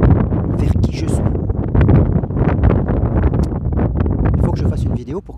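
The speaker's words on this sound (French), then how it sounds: "Je fasse une vidéo pour que le vent se lève" Strong outdoor wind buffets the microphone in loud, continuous rumbling gusts, with a voice speaking throughout and partly masked by the wind noise.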